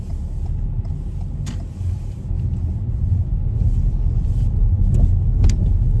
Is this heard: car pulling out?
yes